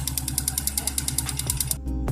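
A fast, rhythmic mechanical ticking and rattling from a loose cam chain in an idling motorcycle engine, close and steady before cutting off abruptly.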